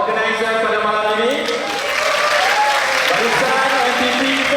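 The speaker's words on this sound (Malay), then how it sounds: "saya nak kita beri tepukan gemuruh kepada organizer pada malam ini" An audience at an evening talk gives the organizers loud, continuous applause. The clapping is dense and roaring and is mixed with voices, cheering and a lingering tone from the speaker system.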